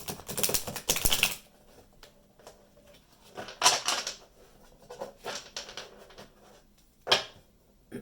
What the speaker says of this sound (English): I'm going to shuffle the cards, guys.